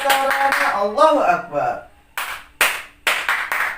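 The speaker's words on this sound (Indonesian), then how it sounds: "Tepuk pramuka, pramuka, pramuka." Children do a scout rhythmic clap, a short chant voiced first, then a handful of crisp, loud, unison hand claps in a patterned beat with brief gaps between them.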